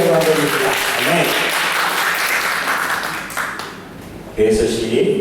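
Church congregation applauding together during a Sunday worship service at a Korean church in Ho Chi Minh City, a dense, loud wash of clapping filling the room, with voices mixed in and a brief swell near the end.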